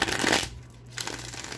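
Tarot cards being shuffled by hand, a brisk papery riffle for about half a second, then a quiet pause before softer shuffling sounds resume.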